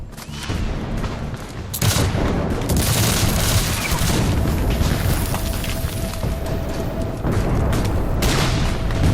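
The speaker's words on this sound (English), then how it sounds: "Bullets and shells fly in all directions." Civil War battle at Gettysburg, with dense gunfire and exploding artillery shells filling the air in a loud, continuous barrage of cracks and booms, with no voices.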